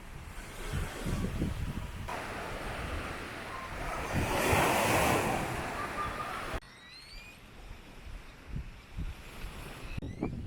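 Sea waves wash onto a beach in Nicaragua in a steady, close roar mixed with wind noise. The sound swells around the middle, then drops abruptly to a softer surf. No one speaks.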